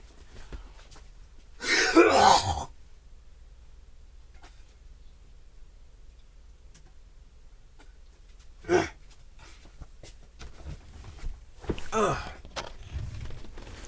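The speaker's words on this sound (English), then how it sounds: "I need to clear my throat." A person clears their throat loudly once, followed later by two shorter, quieter throat-clearing bursts separated by silence.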